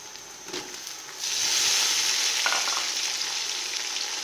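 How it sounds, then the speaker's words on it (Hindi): Ginger garlic paste fries in a pan for a potato pulao, a soft hiss that swells into a loud, steady sizzle as tomatoes go in, with a faint stir or two and no talking. "अदरक लहसुन का पेस्ट फ्राई हो चुका है। अब हम इसमें टमाटर ऐड करेंगे"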